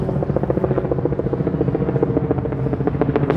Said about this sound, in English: there's a helicopter right overhead